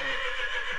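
A horse with a police mounted unit gives a short, bright neigh close by, a brief sustained whinny with nothing else heard.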